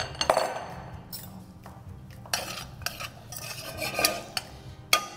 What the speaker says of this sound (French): On va faire suer lardons et mirepoix.